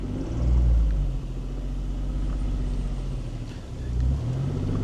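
A stick-shift Geo Metro engine labors up a hill under added throttle, a low, steady rumble that swells and eases as the car climbs, heard from inside the car.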